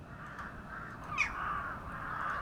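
Crows caw outdoors, a couple of harsh calls rising above steady background noise, moderately distant.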